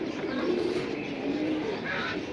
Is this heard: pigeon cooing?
yes